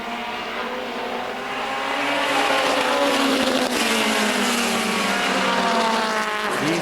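Several race cars roar side by side around an oval, a dense multi-engine drone with rising and falling pitch that swells louder midway, with faint tire noise and no talk.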